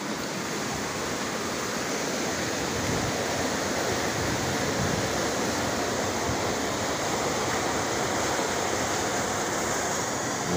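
Loud, constant roar of water rushing at the Cikeas river irrigation source, a dense unbroken wash heard close, with no voices.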